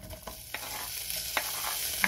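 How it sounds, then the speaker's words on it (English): Quiet, steady sizzling of bacon frying in a large frying pan over medium-high heat, with a few soft clicks and scrapes scattered through. "I've got a large frying pan over medium-high heat, and I'm just going to start by adding the bacon"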